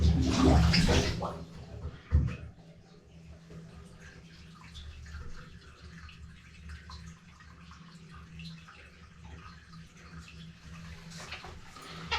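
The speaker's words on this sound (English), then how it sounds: "And the water is draining here." Water drains from a bathtub in a top-floor washroom that had been backing up, a loud gush at first, then a low steady gurgle and trickle that carries on quietly.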